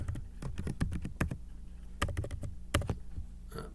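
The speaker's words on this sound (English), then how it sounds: "I'm just going to type Cascadia Code" Keys clatter on a Chromebook keyboard in quick bursts of typing, with brief pauses between clusters of clicks, close and fairly loud.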